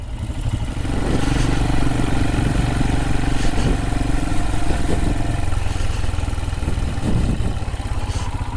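Motorcycles ride along an open mountain road in Snowdonia, their engines droning steadily and close by throughout, with rough clattering texture and small shifts in revs.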